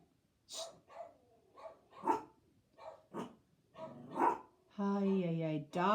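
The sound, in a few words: dogs barking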